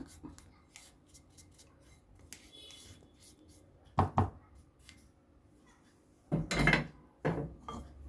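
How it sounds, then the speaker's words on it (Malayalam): Instant mango pickle for Onam is stirred with heated chilli, fenugreek and asafoetida powders, giving sparse quiet scrapes and a few louder clattering knocks of a spoon against the vessel. "എന്നിട്ട് നമ്മളിത് നല്ലവണ്ണം ഇളക്കി ചേർത്ത് കൊടുക്കും"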